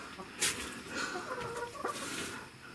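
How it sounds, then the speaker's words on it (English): Silver-laced Wyandotte laying hens cluck softly at bedtime in a dark coop, a low continuous murmur of several birds close by with a few sharper clucks standing out. "these are our laying hens"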